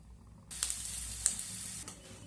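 Brinjal (eggplant) slices frying in hot oil for an egg-and-brinjal dish, a steady close sizzle that swells suddenly after a quiet start, with a few sharp spitting pops.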